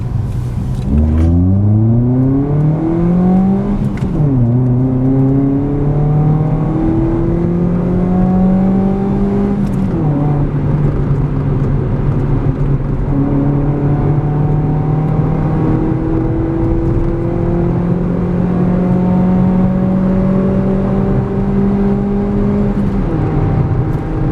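A manual Mazda2 driving along and making a U-turn, its engine droning loudly and steadily with rising revs through the gears and a few dips as gears change, close up and with no talk.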